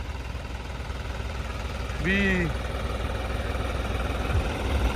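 A Holland tractor engine runs steadily at a low idle-like rumble, with a voice speaking briefly over it.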